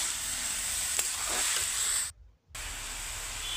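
Bottle gourd frying in a pan with turmeric and chili powder stirred in gives a steady close sizzle and hiss, broken by a brief silence before resuming.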